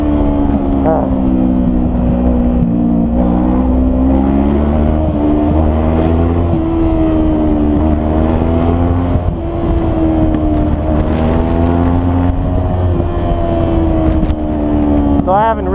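A motorcycle rides along a road at an easy pace, its engine droning loudly and steadily with rising and falling pitch as the rider shifts, under constant heavy wind buffeting and occasional talk.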